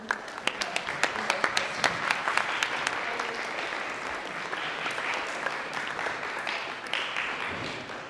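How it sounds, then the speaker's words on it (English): A youth ministry crowd applauds to welcome a guest speaker, opening with a few sharp, distinct claps that quickly swell into an even, moderately loud round of applause, with a voice briefly heard over it. "give him a big round of applause and welcome"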